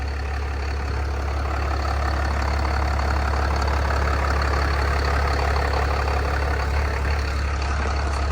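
A 5th gen Cummins diesel truck engine idles running on a single battery, a steady deep loud rumble with a constant low throb and faint mechanical clatter throughout, no talking.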